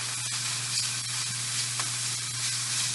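Steady, close sizzling and crackling of vegetables browning in a hot pot for pot roast, continuous hiss with small pops throughout.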